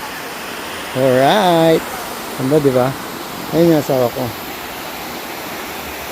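Rushing water of a waterfall stream in a nature spot in Pugo, a steady broadband wash running throughout at moderate level, with people talking over it at close range.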